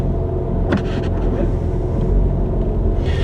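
A BMW fitted with M Performance suspension gives off a steady, low engine rumble inside the cabin while a person talks over it.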